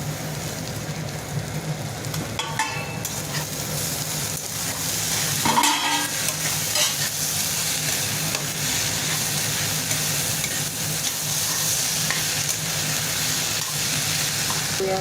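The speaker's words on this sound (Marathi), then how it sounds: "थोडंसं आपण आता ह्याला फ्राय करून घेऊया" Paneer and coriander stir-fried in a pan for pulao, a loud continuous sizzle and hiss with occasional scraping stirs, steady and close.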